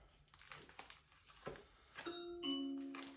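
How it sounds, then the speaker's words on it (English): A doorbell rings indoors with a clear two-tone chime whose bright tones hold and fade, following soft rustling and handling noises from someone working on a smartwatch screen protector. "Someone is at the bell."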